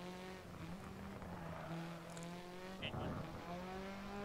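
A rally car in a racing video game holds a steady, buzzing engine drone while engine braking, its pitch shifting slightly, with a brief scuffing burst near the end, fairly faint and without talk.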